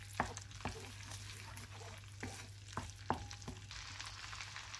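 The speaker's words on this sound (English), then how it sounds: "In the same pan, add 3 tablespoons of butter, the undisputed star of our dish. Let it melt" Three tablespoons of butter melt in a pan with a faint, soft sizzle, broken by a few sharp taps and clicks of a utensil against the pan, quiet and close, with no talk.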